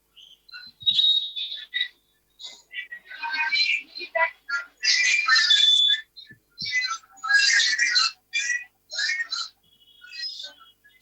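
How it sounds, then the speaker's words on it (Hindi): A whistle blows repeatedly over a phone line during a live news talk show, in shrill, choppy bursts that stop and start irregularly, with no clear speech. "सीटी बज रही है यार"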